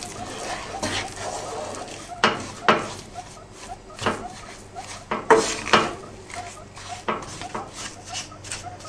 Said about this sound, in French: En dehors du feu, nous allons incorporer le sucre glace.